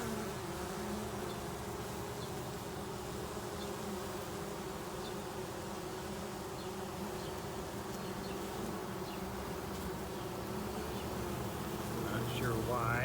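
A dense, continuous hum of honeybees fanning at the hive entrance, close and steady, with individual insects buzzing past now and then.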